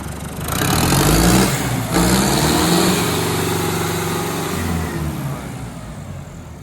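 A 75 hp John Deere combine engine fitted to a tractor starts up and revs, its loud, steady mechanical roar rising in pitch and then settling into a strong idle, with no voices over it.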